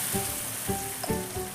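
Batter poured into a hot, well-oiled pan with onion mixed in, giving a soft steady sizzle with a few gentle pulses as it spreads, close and fairly quiet.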